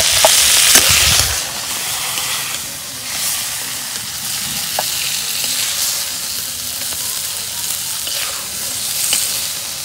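Fish fry in hot oil in a pan with a steady, close sizzle and hiss, a louder crackling burst near the start, and the odd faint clink over the continuous frying.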